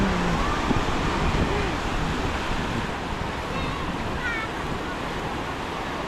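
Steady wind blusters across the open beach at Larnaca, a broad constant rush with faint surf beneath and brief voices in the background.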